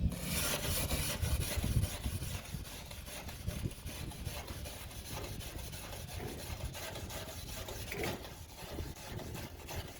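A crud cutter scrapes steadily across the hull of an old Grumman aluminium canoe, a faint continuous rasping and rubbing that holds at the same level throughout.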